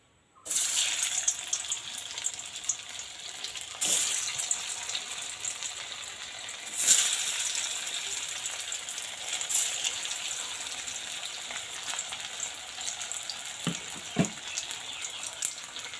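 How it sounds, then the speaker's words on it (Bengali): Steady hissing sizzle of soybean dumplings frying in hot oil, continuous throughout with a few faint clinks and taps. "এবার কিন্তু মুইঠাটা একে একে ভাজি নিই।"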